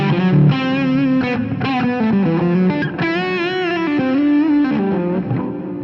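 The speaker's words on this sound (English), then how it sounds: "Here's the melody with the Angry Orange." Electric guitar on the bridge pickup, run through an Angry Orange overdrive pedal, plays a gritty, sustained melodic line with bends and vibrato, loud and close, with no talking.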